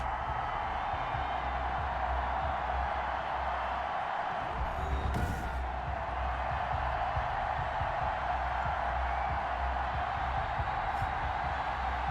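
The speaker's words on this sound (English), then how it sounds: "The two teams emerging from their respective tunnels a minute ago to the approval of this Baltimore crowd." Baltimore stadium crowd in Madden NFL 21 producing a steady, distant roar of cheering ahead of a Ravens versus Giants game, with a low rumbling hum underneath and a brief swell midway.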